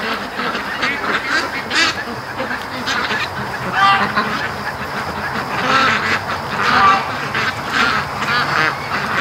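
Ducks kept near a swamp give repeated honking calls that rise and fall over a busy, noisy outdoor background, fairly close and steady throughout.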